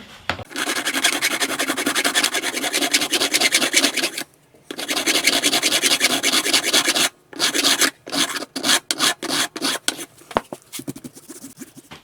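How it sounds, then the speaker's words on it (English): Guitar fret ends being filed with a file glued to the underside of a wooden block, a close steady rasping stroke that runs unbroken for several seconds, pauses, then breaks into shorter repeated strokes. "a file which is just glued on the bottom of this block just to take that end off"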